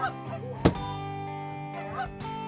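Geese honking during a goose hunt at a pit, several nasal honks calling close by, with a sharp thump partway through and more calls following.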